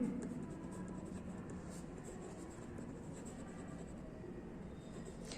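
Pen or pencil scratches faintly on paper as the word misfortune is written out for a third-grade English lesson, a soft steady scraping beneath low room hiss.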